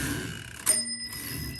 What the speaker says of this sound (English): you can hear this one still has a really nice bell